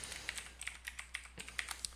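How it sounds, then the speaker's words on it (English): Keys clatter on a computer keyboard as a name is typed during a Linux install, a quick irregular run of close, crisp clicks. "And then you're going to type in your name."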